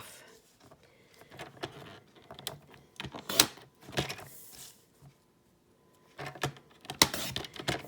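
A paper trimmer slices designer series paper with repeated sharp sliding swipes and clicks, close and fairly quiet, in irregular bursts with a short pause midway.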